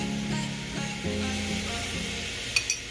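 Salted onion sizzles and fries in oil in a pan for chicken curry with cabbage, a close steady crackle with brief stirring scrapes and a couple of light utensil clinks near the end.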